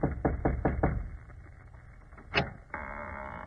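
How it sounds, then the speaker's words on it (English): A series of quick, firm knocks on a door in a 1949 Sherlock Holmes mystery, five raps close together, then a pause, a brief squeak and a low hum afterward. "Go on, Watson, knock."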